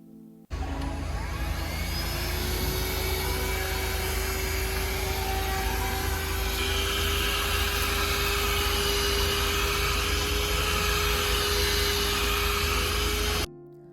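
Cordless car vacuum cleaner of 5-6 kPa suction, powered from the cigarette lighter socket, switches on and runs with a loud steady whine and airy hiss for about thirteen seconds, then cuts off.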